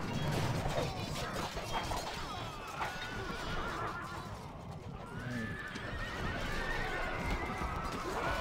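Cavalry horses in the strategy game Rome: Total War neigh and whinny repeatedly over clattering hooves and battle crashes, a loud, busy battlefield din.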